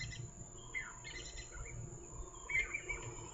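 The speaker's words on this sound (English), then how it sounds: "Those are Jacobin's cuckoos that flew past that you could hear calling." A few faint, distant calls of Jacobin's cuckoos flying past ring out over quiet outdoor safari ambience, brief sharp notes heard from afar.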